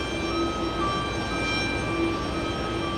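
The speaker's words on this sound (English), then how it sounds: "Cathay Pacific flying in from Hong Kong, a 14-hour, 33-minute flight for this one" A Cathay Pacific Airbus A350-900 arriving at JFK, a steady distant jet drone with a faint engine whine holding through, unbroken and free of speech.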